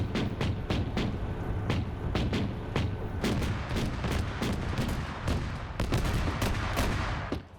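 A .50 cal machine gun fires in a military shooter game as part of dense, distant gunfire, with sharp irregular shots and bursts layered over a constant rumbling battle din.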